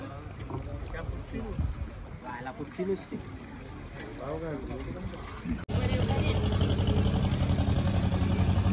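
A large boat on the water, heard first as wind and splashing under voices, then as a loud, steady engine drone with a constant hum.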